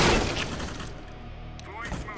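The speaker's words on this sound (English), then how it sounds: "Throwing a grenade." A grenade thrown during a Counter-Strike: Global Offensive match: a loud, sharp burst right at the start, then a fading rumble of gunfire-like noise, with a brief voice near the end.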